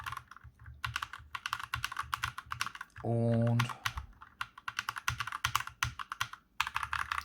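Typing on an Akko 3068B Plus wireless hot-swap mechanical gaming keyboard with RGB lighting, a brisk run of clacky keystrokes heard close and fairly loud, broken by a brief steady hum in the middle, with someone speaking over parts of it.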